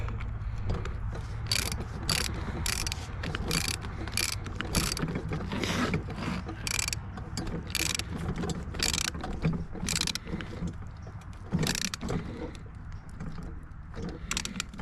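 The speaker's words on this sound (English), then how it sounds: "Get this banjo here tightened up." A ratchet clicks in rapid bursts while tightening a banjo bolt on a 1990 Volvo 740 turbo wagon, with repeated close, crisp pawl clatter over a low background hum.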